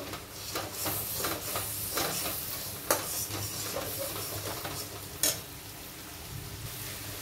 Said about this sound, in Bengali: জিরে দেব, হলুদ দেব, ভালো করে কষে নেব।